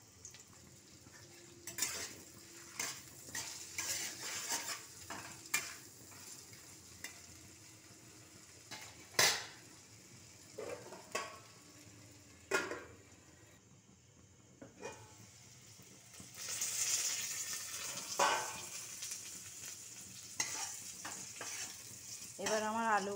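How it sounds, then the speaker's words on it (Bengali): Potatoes fry with salt and turmeric in a pan, a quiet sizzle punctuated by clinks and scrapes of a utensil against the pan, the hiss swelling louder near the end, with brief speech. "এর সাথে আলুতে আমি একটু নুন আর হলুদ দিয়ে ঢাকা দিয়ে ভাজবো"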